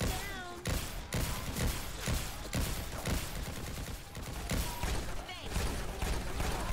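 Rapid gunfire from a gun in the video game Revelations 2012 crackles in a steady series of sharp, closely spaced shots, with a voice talking over the shooting throughout.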